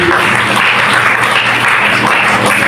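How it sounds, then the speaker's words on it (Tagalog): A church congregation at Sunday worship breaks into loud, sustained applause, even and continuous from start to finish. "Palakpak sa Panginoon, mga kapatid"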